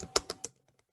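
A few quick keystrokes on a computer keyboard as a password is typed, three or four close, crisp clicks and then faint taps trailing into quiet.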